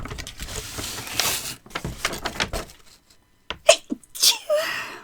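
A single sharp sneeze bursts out after a stretch of rustling and handling noises, followed by a short breathy exhale.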